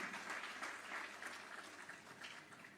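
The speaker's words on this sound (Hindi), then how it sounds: "इस बात के लिए तो जोरदार तालियां बनती हैं।" A seated audience at a chamber of commerce headquarters inauguration in Mumbai gives steady, fairly distant applause, a dense ripple of many hands clapping that holds for about three seconds without talk.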